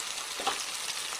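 Chicken legs fry in a pan, a soft continuous sizzle with faint crackles, heard close and alone.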